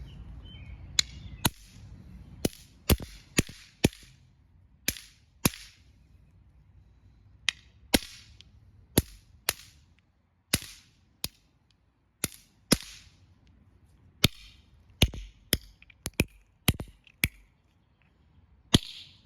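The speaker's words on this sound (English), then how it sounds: "you knock them together, and it makes a spark and a bang" Sharp, loud pops from firework snap balls crack out one after another at irregular intervals, about two dozen in all, over near-silence between them.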